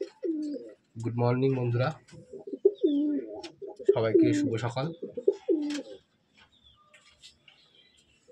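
Madrasi pigeons coo faintly in a loft, low soft calls heard beneath a voice greeting listeners, then a few quiet coos and rustles once the talking stops.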